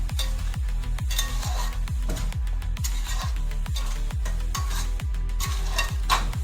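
Homemade masala for matar paneer frying in a pan, with a spoon scraping in a regular rhythm of about two strokes per second over a low sizzle, close by and alone.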